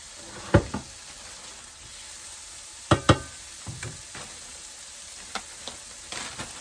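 Chopped onion hits a hot frying pan in a home kitchen and sizzles with a soft steady hiss, broken by a few sharp knocks and clatters of stirring.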